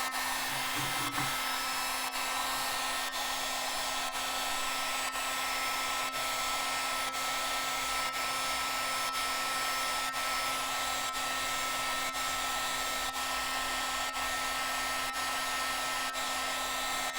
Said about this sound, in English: Got a heat gun, some heat shrink.